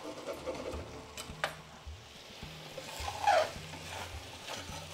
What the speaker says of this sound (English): let's heat that through and simmer that down a little bit.